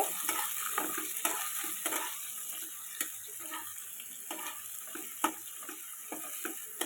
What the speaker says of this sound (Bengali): পেঁয়াজটা খুব ভালোভাবে লাল লাল করে ভাজতে হবে